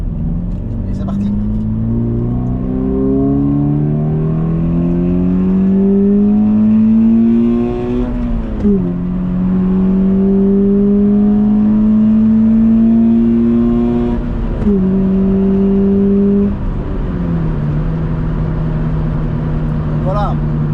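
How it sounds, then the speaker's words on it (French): A Toyota GT86 with its stock exhaust drones steadily on a motorway, its pitch climbing through gears with brief dips at each shift, the exhaust rumbling loudly throughout while accelerating. "monter sur autoroute pour entendre le moteur et l'échappement d'origine"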